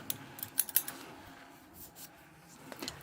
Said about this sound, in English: would you like me to trim anything off with the scissors?